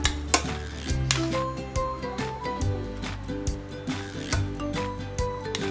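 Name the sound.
butter melting and being stirred in a pan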